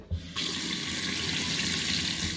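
Water gushes from the faucet of a newly installed double-bowl kitchen sink in a house under construction in the Philippines, a click as it opens followed by a strong, steady splashing rush close by.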